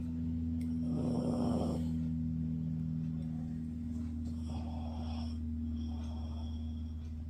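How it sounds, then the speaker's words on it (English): A pug dog snores nearby in a room, a few slow rasping breaths over a steady low background hum, with no talking. "My pug is right here snoring."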